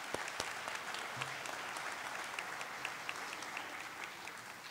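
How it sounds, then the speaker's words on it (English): A large ceremony crowd gives a sustained round of applause at a middle college cording ceremony, an even wash of many hands clapping at a distance with no talk over it. "So let's give them a round of applause"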